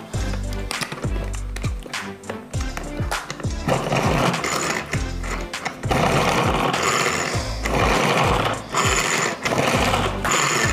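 A pull-cord kitchen chopper cutting onion gives repeated quick whirring pulls with plastic rattling and clattering blade spins, close and fairly loud, in bursts across the whole stretch.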